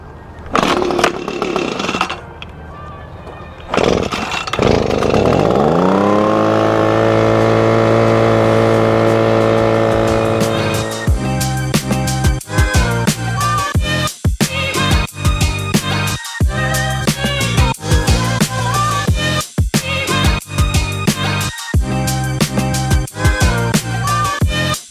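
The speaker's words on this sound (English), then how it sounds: "I prefer my leaf blower" A leaf blower roars steadily for several seconds, drying off a Yamaha YFZ450R ATV after a wash, then gives way to choppy, rapidly changing blasts and bursts as it is aimed around the machine.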